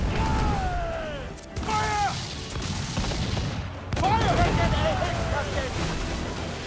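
Naval cannons boom in a ship battle in Assassin's Creed Freedom Cry, heavy low blasts rolling over a busy sea-combat mix, with voices talking over the fire.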